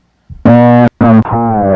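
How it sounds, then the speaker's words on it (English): Distorted synth tone played in Ableton, a loud buzzy harmonic note cut off briefly, then a second sustained note that bends in pitch, gritty and saturated with no talk. "there's some cool distortion stuff you can add too"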